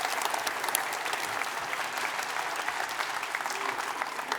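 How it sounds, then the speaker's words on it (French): Audience applause fills a large hall at an emlyon alumni gathering, steady and dense throughout with no pauses, the clapping of many hands blending into a continuous wash. "On vous applaudit."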